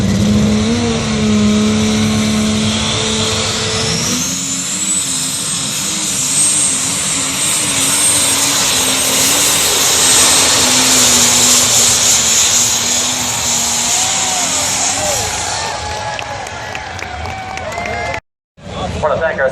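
The 6-Shooter pulling tractor roars at a truck and tractor pull, a loud sustained engine scream that climbs in pitch as it launches down the track, with an announcer talking over it and an abrupt cut near the end.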